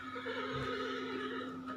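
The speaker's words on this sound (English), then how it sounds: "It's a horse." A horse on a farm gives a single loud, close whinny lasting well over a second, its shrill, wavering call carrying alone without any talk.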